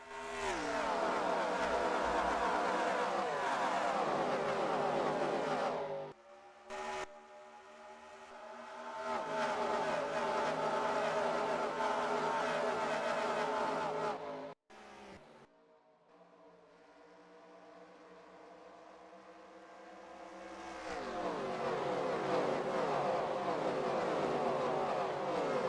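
Race truck engines roar at speed during a Truck Series race at Darlington, a loud sustained whine that drops away, briefly cuts out, returns and swells again as trucks pass, with no voices.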